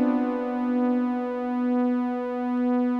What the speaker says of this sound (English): we're hearing that little bit of detune